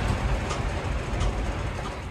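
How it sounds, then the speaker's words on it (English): Gale-force wind and driving rain lash the outside of a mountain bivvy hut on Monviso, a steady, loud, dense roar that holds without a break and carries no voices. "It's like gale force winds and driving rain."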